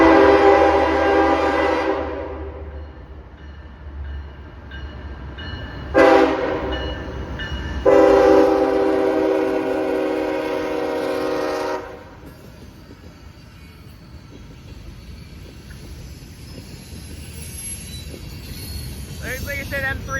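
Southbound freight train M353, running Chicago to Cincinnati, sounds its horn in several loud sustained blasts with breaks between, then passes with a rumbling rolling roar that fades under wind noise.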